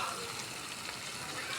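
Mustard seeds crackling and sizzling in hot oil while tempering for a brinjal and potato curry, a dense steady hiss with fine popping throughout, close and moderately loud, no talking.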